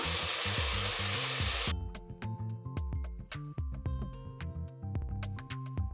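Vegetables fry in a pan with chilli powder just stirred in, a loud broadband sizzle for the first stretch, then a busy run of scraping, clinks and stirring knocks against the pan over a steady background hiss.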